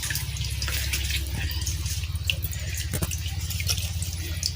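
Water drips and trickles steadily off a hauled bubu crab trap, a close, continuous patter of drops over a low rumble of wind or engine.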